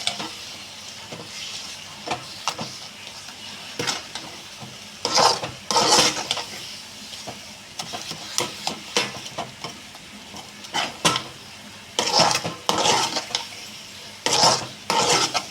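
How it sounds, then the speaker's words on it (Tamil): A spoon scrapes and stirs thick jaggery syrup filling for kozhukattai in a pan, in irregular bursts of scraping strokes with faint sizzling between them, close by and with no talking. "நம்ம இந்த மண்டவெல்ல பாகு வந்து எல்லா பக்கமும் படுத்த மாதிரி நல்லா கிண்டி விட்டுக்கணும்."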